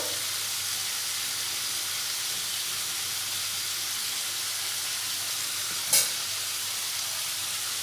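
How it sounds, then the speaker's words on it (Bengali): Green beans frying in a pan with salt and turmeric, a soft continuous sizzle held at an even low level, close, with one brief sharp clink near the end and no talk. "বরবটিগুলো খুব ভালোভাবে ভেজে নেব"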